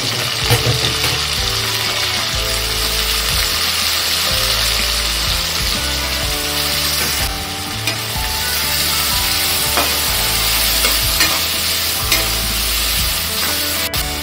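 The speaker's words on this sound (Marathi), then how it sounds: "लसूण चांगलाच खरपूस फ्राय करून घेऊया। आपण हे कालवण 7 माणसांसाठी बनवतोय। थोडं लाल व्हायला आपण कांदा टाकून द्यायचा।" Garlic and onion fry in oil in a pan for an Agri-style crab curry, giving a loud, steady sizzle with rhythmic scraping and clinking from stirring throughout, and no one speaking.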